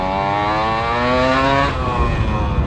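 A Suzuki Satria two-stroke motorcycle engine fitted with a Denso CDI revs up close and loud. Its rising, buzzy pitch climbs smoothly, then drops back to a rough, burbling idle.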